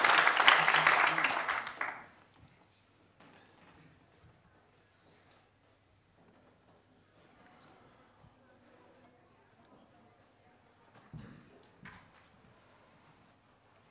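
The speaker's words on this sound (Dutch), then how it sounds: "Nogmaals even applaus voor Samuel." A short burst of audience clapping at an evening social media club talk in Groningen, loud for about two seconds then stopping abruptly, followed by quiet room noise, shuffling and faint bumps.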